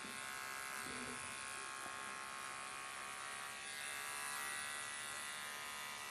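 Electric clipper fitted with a 15 blade trims close around a Shih Tzu's face and eye corners, a steady near buzz running unbroken throughout with faint handling noise at the start.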